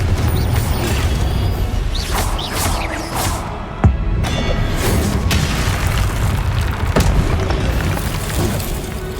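Confringo fire spell blasts in Hogwarts Legacy combat, a sharp boom near four seconds standing out from a dense, continuous wash of magical impacts, crackles and mechanical battle noise, with no talking.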